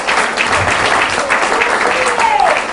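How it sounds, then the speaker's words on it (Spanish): Applause from a church congregation, a steady wash of clapping that runs the whole stretch at an even, fairly loud level, with faint voices mixed in. "si le vas a dar un aplauso al rey,"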